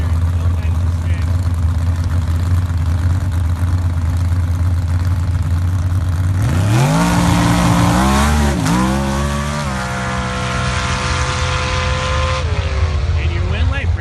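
Small block, single carburetor drag race car engine at a drag strip, loud and close, idling roughly before revving up into a rising, screaming roar, with a commentator talking over it.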